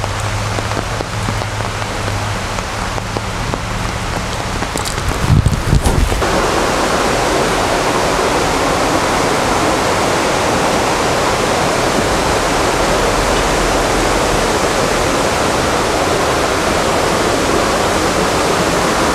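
Heavy rushing water pours over Sliding Rock in Pisgah National Forest, a loud constant roar that swells and fills everything after a brief shift midway, with no talking.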